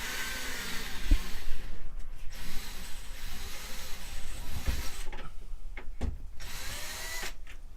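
Power driver turning a bit in a quick-connect holder to unscrew a screw on an RV travel trailer skylight vent cover, several short whirring bursts with pauses between them.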